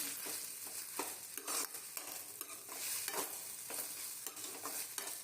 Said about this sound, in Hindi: यहाँ पर केचप डालने के बाद हम बहुत अच्छे तरीके से इसकी जो है वो मिक्सिंग करेंगे